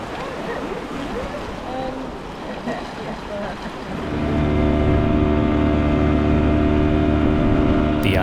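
A dinghy ride on open water off a Scottish island: wind and splashing water at first, then a steady loud outboard motor drone takes over and holds to the end.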